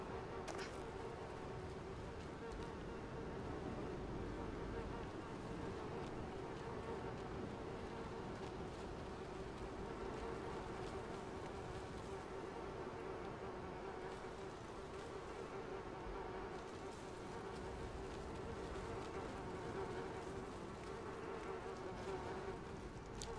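A dense, continuous buzz of bees swarming around a beehive in the game Little Nightmares II, steady and droning throughout, with no talk over it.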